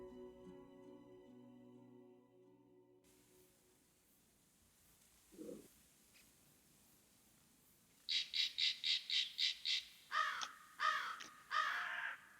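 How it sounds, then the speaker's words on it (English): Crows caw at night in a quiet outdoor setting, first one faint call, then a burst of loud, rhythmic caws in a rapid series followed by several slower, spaced squawks near the end. "you can hear the sound of crows and croaking of frogs around."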